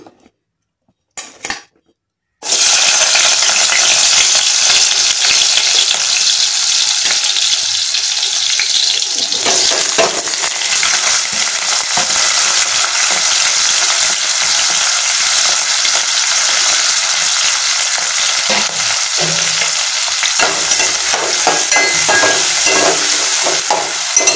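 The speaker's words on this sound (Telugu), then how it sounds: "ఇప్పుడు ఉల్లిపాయలు, పచ్చిమిరపకాయలు వేపుకుందాం" Sliced onions and green chillies frying in hot oil in a kadai, a loud steady sizzle filling the whole stretch after a few brief knocks at the start, with occasional stirring clinks.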